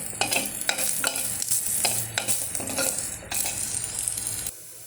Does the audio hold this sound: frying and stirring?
yes